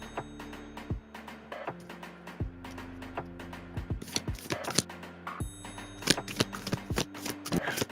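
Tarot cards being shuffled and drawn from a deck, a quick run of soft papery flicks and taps, close and fairly quiet, with no talking over them.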